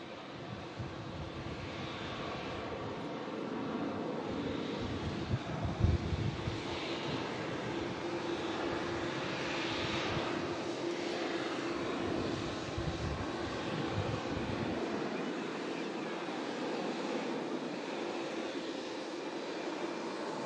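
A Boeing 747 departing London Stansted roars steadily for about twenty seconds, a loud broadband engine rumble with slight wind buffeting that ends abruptly, heard from a plane-spotting position near the runway.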